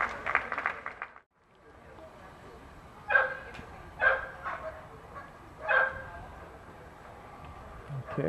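A few sharp dog barks ring out one at a time in a large room at a national dog show, with background murmur and commotion between them.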